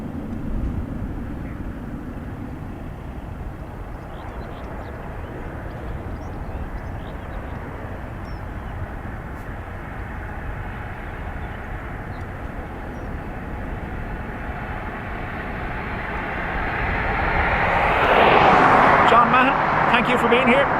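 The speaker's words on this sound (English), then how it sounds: "Should have a Ryanair about to come into your view." A Ryanair airliner approaching Dublin Airport rumbles faintly in the distance at first, then swells into a louder broadband roar near the end as it passes closer, with talk heard over it.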